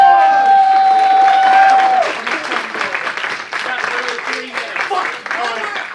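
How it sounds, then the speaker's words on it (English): A crowd claps and cheers steadily for several seconds at a charity Cards Against Humanity game at a convention, a dense patter of applause with scattered voices mixed in. "give Drago a round of applause"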